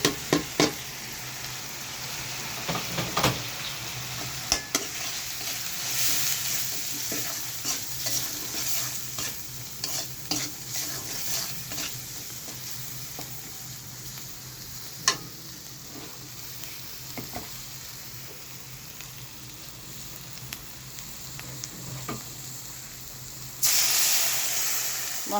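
Onion, ginger-garlic paste and spices fry in a pan for a fish curry, with a continuous close hiss and sizzle, scattered scraping clicks of stirring and a louder surge near the end.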